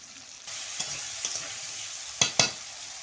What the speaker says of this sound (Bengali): প্রথমে আলুগুলোকে আমি কষে নেব